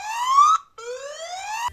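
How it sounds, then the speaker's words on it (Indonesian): Two rising electronic siren sweeps from an Eyesec ES02 PTZ indoor CCTV camera, loud and close, each whooping upward with harsh buzzy overtones and separated by a short gap; no talking. "Suara sirine bakal lebih kencang kalau volumenya dibesarin."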